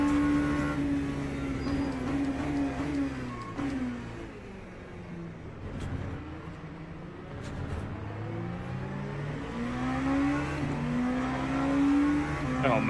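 GT3 race car engines roar in a racing video game at Spa, with a continuous loud engine drone and pitch rising and falling through shifts as the car accelerates and brakes.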